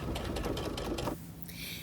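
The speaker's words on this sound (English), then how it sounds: "I do a reverse stitch several times to hold it nice and tight." A sewing machine runs a reverse stitch back and forth across a quilt being made into a jacket, a steady close mechanical whir for about a second before it stops and a faint higher tone remains.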